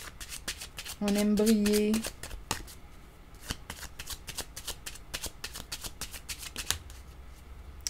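Playing cards are shuffled for a card reading in a steady run of quick riffling clicks throughout, close and crisp, while a voice speaks over them and a brief tonal hum rises partway through.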